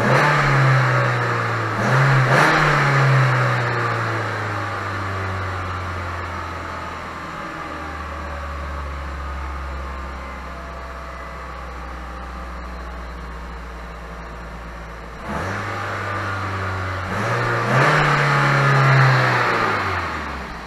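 Car engine revs up hard twice, rising to a loud roar and dropping back to a steady idle between bursts, recorded close in what sounds like an enclosed garage, with no talk.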